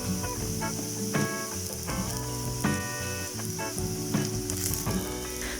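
About 90 grams of onions frying in oil with spices for fish fried rice, a steady close sizzle with periodic scraping and stirring strokes.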